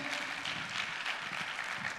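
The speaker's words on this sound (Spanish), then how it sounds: "Un aplauso a Cristo." A congregation applauding during a Spanish-language sermon, a steady mass of hand clapping with a loose pulsing rhythm, moderately loud and continuous, with no voices over it.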